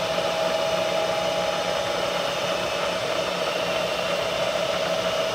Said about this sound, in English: The spindle is a lot quieter, so hopefully we can hear everything.